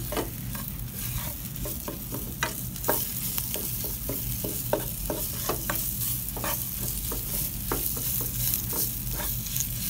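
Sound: chicken red curry paste stir-fried in oil

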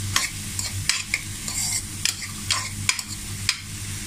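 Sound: stirring bottle gourd sabzi in pan

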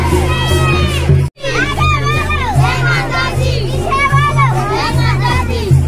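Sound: village crowd with children at Lakshmi immersion

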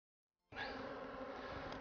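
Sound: honeybees flying around a hive

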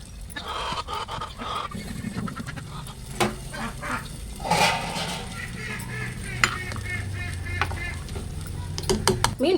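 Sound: fish being added and stirred into simmering curry

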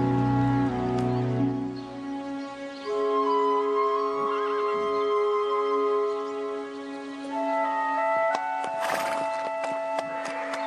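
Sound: horse neighing

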